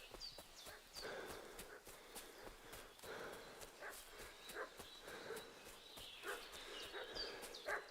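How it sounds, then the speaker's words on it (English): In Kingdom Come: Deliverance II, a dog barks and whimpers at some distance amid the clip-clop of a horse's hooves, with a voice occasionally speaking over the scene. "What's that dog making such a fuss about?"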